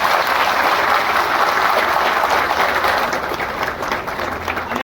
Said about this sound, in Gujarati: તો એકવાર જોરદાર તાળીથી વધાવો